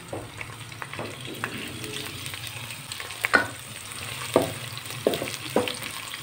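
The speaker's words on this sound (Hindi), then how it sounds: "उसके लिए मैंने घी दिया हुआ है, आपको नज़र आ रहा है नाज़रीन। इसमें अब हम डालेंगे प्याज" Onion fries in ghee as a moderate, continuous crackling sizzle, punctuated by several clinks and scrapes of a spoon stirring the pan, close and without talk.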